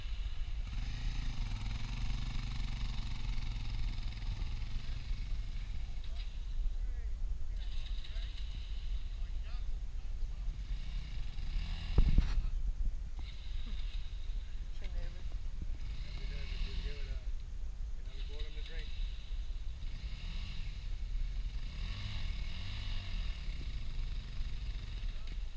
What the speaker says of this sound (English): you can really hear the little 250 4-strokes struggling in that really soft sand